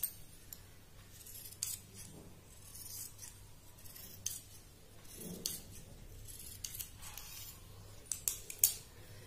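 Scissors snip through folded saree fabric in a quiet room, giving soft, crisp blade clicks and rustling cuts at an uneven pace, faint and close, with light handling noise between them.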